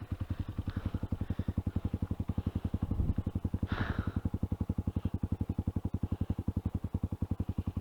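A Honda XR200 dirt bike engine running on a trail, a steady, even single-cylinder thump at a fast regular pulse, with brief louder surges and a little mechanical clatter.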